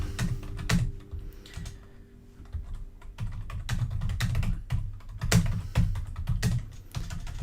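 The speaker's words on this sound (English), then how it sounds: "Hang on, typing as quickly as I can." Fast typing on a computer keyboard, a close, dense run of clicky keystrokes with brief pauses, heard alone without talk.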